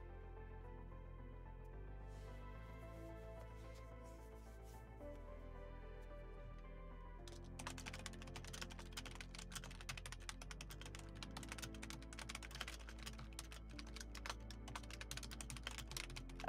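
Rapid clicking keystrokes on a computer keyboard, growing busier and denser about halfway through, over a steady tonal hum and background music with no talking.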